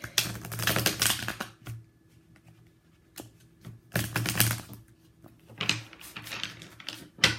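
Tarot cards are shuffled by hand in quick, rapid riffling bursts. Three clusters of close clicks and flutters come with short quiet pauses between them, and no one speaks.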